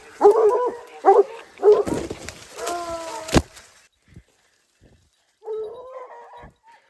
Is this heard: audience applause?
no